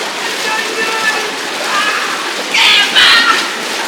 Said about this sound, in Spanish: acá al costado está el hidromasaje, vamos a probar. Está caliente.